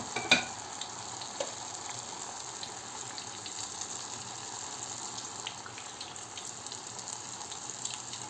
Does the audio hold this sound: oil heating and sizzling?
yes